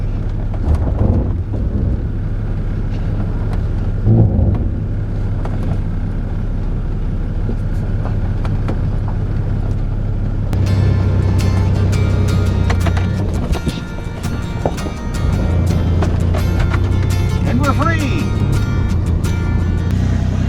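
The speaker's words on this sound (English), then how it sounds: "Brian VANtana is running and driving pretty good again" A Chevrolet G20 van with a swapped-in 700R4 automatic transmission drives along, its steady low engine drone and road rumble continuous throughout, with wind buffeting the microphone and a brief dip midway.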